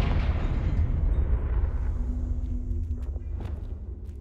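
A Confringo blasting spell cast in a Harry Potter video game, heard as a dense, rumbling explosive burst that fades into a lingering low roar with a faint hum beneath.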